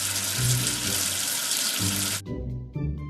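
Water running from a tap to rinse soap away, a steady broadband gush for about two seconds that cuts off abruptly, followed by soft musical tones.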